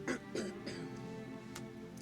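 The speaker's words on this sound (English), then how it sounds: "Again, I apologize for coughing." A few short, rough coughs or throat clearings close to the mic, in quick bursts with a steady low hum underneath.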